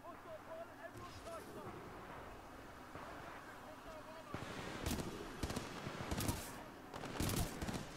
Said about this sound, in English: They're actually firing at some of the predators.